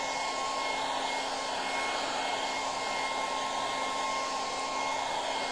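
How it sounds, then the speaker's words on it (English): A hair dryer blows steadily and continuously to dry the size under gold leaf applied through a stencil, a loud even rush of air with a constant motor whine, no voices. "I'll just pop the dryer on it just to be sure"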